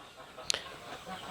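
Free-range chickens on a poultry farm give a brief cluck close by, set against a low murmur of background barnyard noise with no talking.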